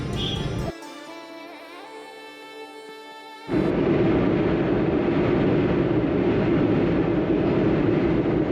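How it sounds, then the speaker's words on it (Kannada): A train rumbles loudly and steadily over the Yamuna bridge overhead, a heavy roar that follows a quieter stretch with a sustained tonal hum. "ಟ್ರೈನ್ ಹೋಗ್ತಾ ಇರೋ ಸೌಂಡ್"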